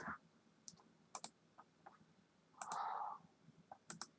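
A computer mouse click on an apply button, one of several faint, sharp clicks and taps scattered through a quiet room, with a brief soft rustle in the middle.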